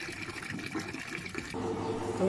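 Water pours into a container, a steady splashing fill that grows fuller and louder toward the end, heard close and alone for a couple of seconds.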